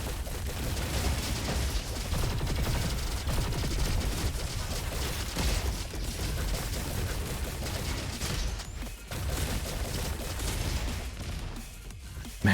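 Continuous rapid machine-gun fire from a weapon in the video game Roboquest, a dense, loud barrage of shots with no pauses and no talk.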